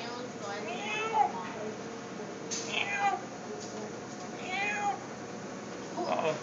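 An old man imitates a cat, making three or four rising and falling meow sounds spaced a second or two apart, at moderate volume against a faint background hiss.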